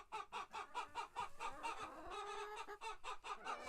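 Chickens clucking steadily indoors, a close, busy flock chattering in rapid repeated bursts with one drawn-out call partway through.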